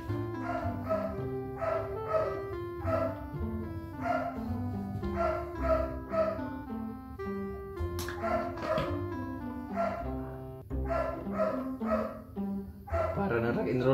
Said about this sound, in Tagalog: Ingay mga aso guys, pasensya na guys.